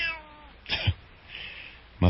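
A cat meows twice in short, close cries, one near the start and another at the end, with faint background noise between them.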